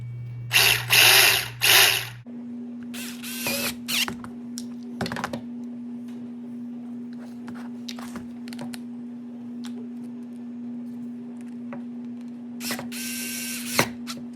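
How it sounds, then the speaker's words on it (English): A power driver spins screws into the base plates of an ARRMA Typhon Grom RC car chassis in short buzzing bursts at the start and end, with a steady motor hum and small clicks in between, close up. "I'm adding screws back onto the base plates there"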